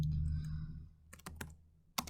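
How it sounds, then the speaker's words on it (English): Typing on a computer keyboard, heard up close as a handful of crisp clicks in short bursts after a low hum fades, with no talking. "So I simply type in air filter"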